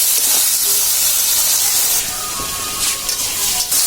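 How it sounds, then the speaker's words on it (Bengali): Shrimp sizzle in a hot pan while cooking for a Bengali shrimp dal, a dense, steady, steamy hiss close by, with faint clinks and stirring near the end. "আর মা এখন চিংড়ি মাছগুলো দিয়ে দিচ্ছে, ভালো করে ভেজে নেবেন।"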